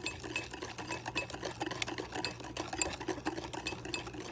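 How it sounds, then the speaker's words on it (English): Cream mixture being stirred into egg yolks, a quick rhythmic scraping and clinking of a utensil against a bowl that repeats steadily throughout. "we're going to take some of the cream mixture, and we're going to just keep stirring the egg yolk"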